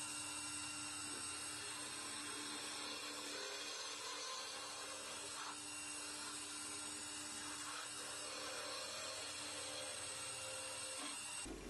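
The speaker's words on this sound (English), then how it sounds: "the skew chisel just kind of gives a bit of a nicer finish on the wood" A lathe hums steadily while a skew chisel scrapes continuously against spinning wood of a pen blank, a constant faint whirring hiss with no pauses or voices.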